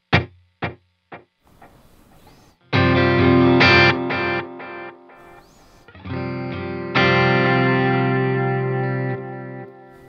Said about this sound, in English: And so this is what that delay sounds like.